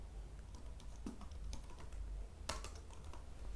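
Python code being typed on a computer keyboard for an area-of-rectangle calculator, with quiet, close key clicks tapping at an uneven pace and a brief burst of quicker strokes near the middle.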